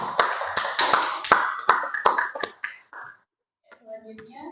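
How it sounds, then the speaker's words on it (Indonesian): Brief scattered hand claps from a seminar audience, a few sharp taps spaced through the opening seconds that fade out, followed by quiet and a faint voice. "Kita kasih aplaus dulu."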